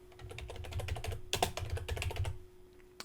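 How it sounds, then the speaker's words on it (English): Rapid bursts of keystrokes on a computer keyboard as a search keyword is entered, clustered clicks for about two and a half seconds before falling quiet. "what I'm going to do is type in my focus keyword."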